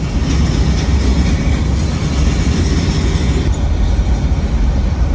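Florida East Coast Railway switcher train FEC 960 working in Pompano Beach, Florida, a loud, continuous low rumble of diesel engine and rolling rail cars close by, with a faint high whine above and no talk.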